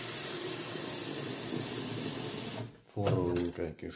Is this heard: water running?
yes